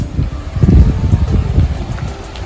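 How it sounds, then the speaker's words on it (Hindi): Wind gusts at the seashore at high tide, buffeting the microphone in loud, rumbling low surges that rise and fall in quick waves, with no voices heard. "मस्त हवा चल रही है।"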